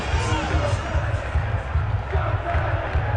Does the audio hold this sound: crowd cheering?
yes